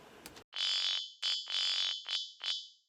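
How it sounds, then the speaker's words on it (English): A buzzy, ringing bass tone with a hollow, metallic edge plays several held and short notes, loud and up front with no talking. "Say for example we wanted a metallic resonance in the sound."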